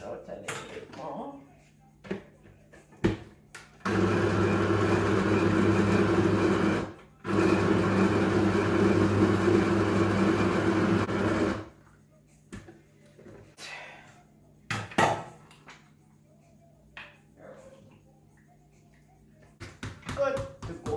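A kitchen blender whirs in two loud bursts blending a rum cake mixture for a Christmas black cake, with a short pause between, surrounded by quiet talk and clattering of utensils.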